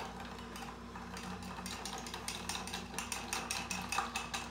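A spoon stirs a Bloody Mary with celery in a glass, giving faint, repeated light clinks over a steady low background hum.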